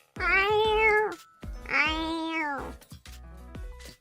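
A person imitates a cat, letting out two long, drawn-out meows in a row, followed by softer babbling sounds, close and clear.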